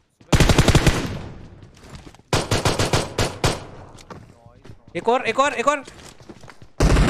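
Sharp, rapid bursts of automatic gunfire from the battle-royale video game PUBG Mobile ring out in loud clusters separated by short gaps, with a player's voice shouting in between.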